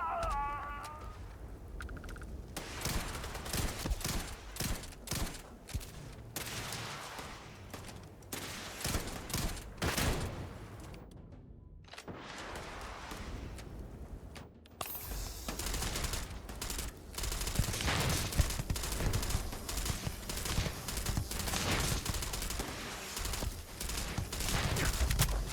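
Sustained gunfire in the space RPG Starfield: rapid bursts and volleys of shots crackle almost continuously, with a brief lull midway before heavy firing resumes and keeps going to the end.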